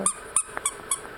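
A squeaky dog toy for a Yorkie or Maltese puppy is squeezed four times in a quick, even rhythm. Each sharp, high-pitched squeak is loud and close, and there is no speech.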